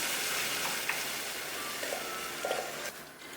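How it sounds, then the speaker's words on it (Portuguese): Condensed milk hits a hot pan after coconut is removed, making a faint, steady hiss and sizzle throughout with a few small pops and bubbles, near and alone. "Mas eu já vou acrescentar aqui o leite condensado."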